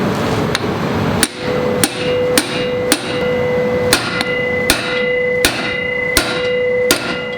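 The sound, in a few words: hammering an impact screwdriver to loosen stubborn motorcycle screw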